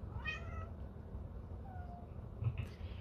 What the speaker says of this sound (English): I'm sorry, the cat's driving me nuts.